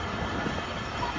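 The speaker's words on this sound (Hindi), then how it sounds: "इसी नाम से ये ट्रेन चलती है, मोइंजोदड़ो पैसेंजर ट्रेन।" Moenjodaro passenger train running on a Pakistani railway line, a steady close rumble of wheels and carriages with faint clatter, loud and continuous, no voices.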